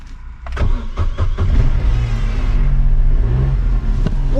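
Vauxhall Corsa C engine starting, with a few sharp clicks and cranking bursts before the engine catches and settles into a loud, close, steady idle.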